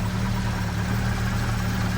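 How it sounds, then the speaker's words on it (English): A 1954 Citroën Traction Avant Big 15 engine idles quietly and smoothly, a steady low hum with no rattle, close and unbroken. "Now this engine's particularly quiet, it's unusual because normally they're quite sort of noisy and rattly, these traction motors, but this one's really rather good."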